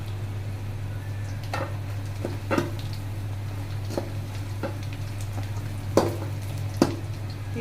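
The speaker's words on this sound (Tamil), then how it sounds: "இந்த ஸ்டேஜில் பாருங்க புளி தண்ணி காய்ச்சி" Tamarind water heating in a pan for tamarind rice, a steady low bubbling simmer with a faint continuous hiss and a few sharp ticks and clinks, close and quiet, with no talking.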